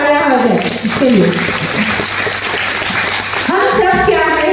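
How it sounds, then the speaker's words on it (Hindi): Audience applause at a Hindi-language consumer business seminar, a dense continuous clapping wash mixed with loud talk and music-like tones running over it throughout. "एक बार जोर से तालियां हो जाए इसके लिए।"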